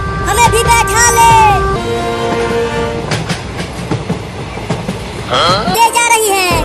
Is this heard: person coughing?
no